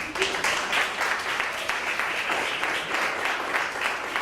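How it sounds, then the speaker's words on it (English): Audience clapping at a Caribe Plurilingüe academic conference, a dense, steady round of applause from a room of people, sustained evenly throughout with no pauses. "Another clap."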